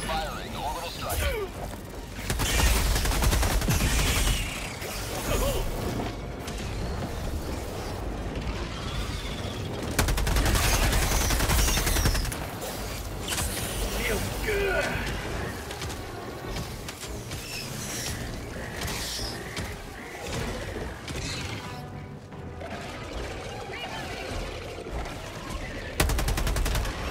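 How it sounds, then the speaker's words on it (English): An orbital strike firing in the Helldivers video game, with heavy gunfire bursts, mechanical clatter and crashing impacts in a dense, loud battle mix, with voices talking over the noise. "Calling in orbital strike. Firing orbital strike."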